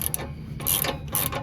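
Ratcheting 9/16 wrench loosening a tight exhaust clamp on a 2022 Chevy 2500 Duramax, heard as two or three short bursts of clicking with brief pauses between, close and fairly quiet over a low steady hum.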